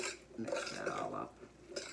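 A spoon scrapes and clinks in a bowl while mixing stuffed-pepper filling with onion and peppers, soft close stirring sounds for a couple of seconds.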